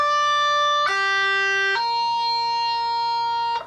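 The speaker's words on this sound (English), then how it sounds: "we're going to incorporate our hammer-on with our 4th finger" Clean electric guitar tapping with hammer-ons and pull-offs, notes sounding one after another, each sustained and ringing, with sharp attacks stepping between pitches, played alone.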